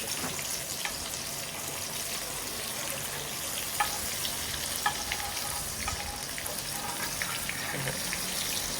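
Surmai fish fries steadily in a pan over a low flame at a Konkan homestay in Vengurla, giving a continuous close sizzle with occasional light clicks as the pieces are turned.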